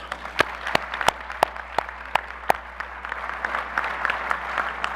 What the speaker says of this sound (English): can you please give all these individuals a round of applause?